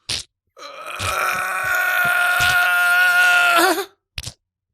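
A human voice imitates a baby goat, giving one long, loud, wavering bleat of about three seconds. A short vocal burst comes before it and another after it.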